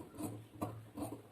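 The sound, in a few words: cutting four layers of cloth for the back neck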